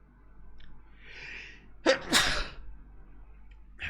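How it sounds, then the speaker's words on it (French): A single close, loud human sneeze with a short in-breath before it, heard alone in a quiet room with a faint hum. "Attendez, je vais éternuer."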